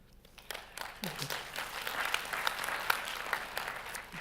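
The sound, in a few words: audience applause for an award winner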